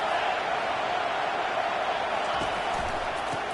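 Steady, loud roar of a stadium crowd at a Penn State college football game, a continuous wash of massed voices and cheering throughout, with a broadcast commentator talking over it.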